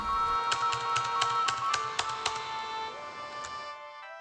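Sharp office keyboard taps repeat steadily over a sustained, droning musical backdrop, with no voices.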